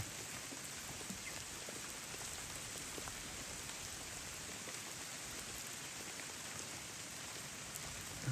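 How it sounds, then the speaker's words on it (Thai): Steady rain pattering on surfaces near a house in a forest, an even hiss of countless drops that stays constant throughout, with no voices. "ดูไปเมื่อกี้ฝนเริ่มซาแล้ว"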